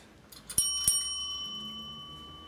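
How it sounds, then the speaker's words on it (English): A warning bell at a school debate quarter final rings out in two quick bright strikes, the clear metallic tone lingering and slowly fading in a quiet room. "A single warning bell will sound at 1 minute before the speaking time."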